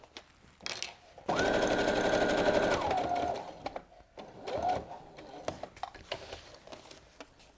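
A sewing machine stitches foam to fabric for a picnic tote bag, running in one steady burst of about a second and a half, then slowing and stopping. Short mechanical clicks and faint handling noises follow.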